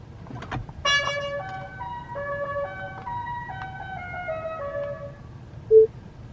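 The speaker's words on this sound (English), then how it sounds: "you press the horn button, and it plays La Cucaracha outside the car" A Tesla Model 3 custom horn plays the La Cucaracha melody as a series of bright electronic tones outside the car, loud and clear, followed by a short isolated beep.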